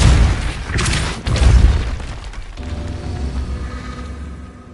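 Confringo explosive spell in Hogwarts Legacy bursts in two heavy booms close together near the start, followed by a lingering crackling, rumbling tail that slowly fades.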